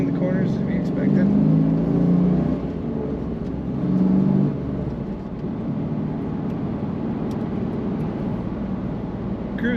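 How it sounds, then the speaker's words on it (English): A 1995 Pontiac Firebird Formula's engine drones and revs under full throttle, rising in two surges before settling into a steady cruising hum. "Just want to go deep into the throttle and hit that torque curve."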